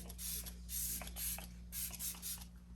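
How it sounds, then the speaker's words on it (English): Several quick hissing bursts from a makeup setting spray bottle sprayed at the face, close and fairly loud, in an uneven rhythm over a low background hum. "So let me spray my face with this one."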